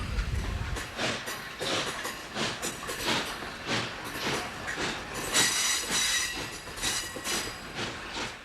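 An Allegany Central excursion train with a caboose rolls along on a 1989 run, giving a steady rumbling clatter of wheels on rails with repeated squealing and a faint hiss, heard from close aboard.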